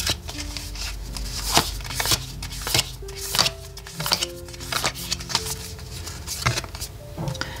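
Oracle cards are shuffled by hand, close and crisp, in repeated irregular bursts of riffling and tapping with tonal background music underneath.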